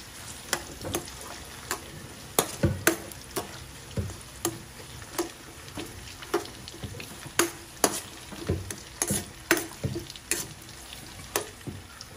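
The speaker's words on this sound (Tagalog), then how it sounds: "At ilagay na natin ang ating sibuyas, bawang, hanggang sa siya ay mas-caramelize." Onion and garlic frying in a pan until caramelized, with a low steady sizzle under frequent sharp clacks of a utensil stirring and scraping in uneven rhythm, close by and without talk.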